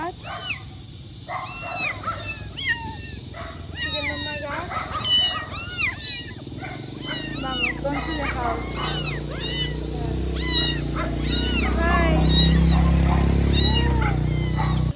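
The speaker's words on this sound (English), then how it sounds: "we've stumbled across three little kittens" Three small kittens found near a supermarket meow repeatedly in high, rising-falling cries, many overlapping calls close by, while people talk and a rumbling background of traffic grows louder.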